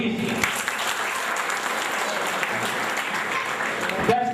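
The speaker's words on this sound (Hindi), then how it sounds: "आप इनके लिए 2 हाथ मिला के ताली बजाइए प्लीज" An audience at a college function claps steadily for honoured students, a dense sustained round of applause that runs throughout before ending abruptly near the close.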